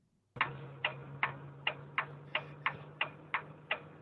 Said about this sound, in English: all you hear are my hazards ticking.